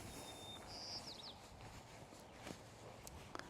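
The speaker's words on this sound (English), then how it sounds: "You can hear lots of birds chirping" A bird gives a brief, high chirping call early on, faint outdoors at a lakefront against soft ambient noise and a few light footfall-like taps.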